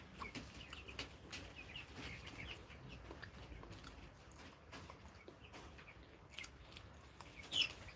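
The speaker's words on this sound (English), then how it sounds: "These are cockerel chickens." Eight-week-old cockerels on a poultry farm make faint, scattered clucks and short chirps over a quiet background, with a couple of slightly louder calls near the end.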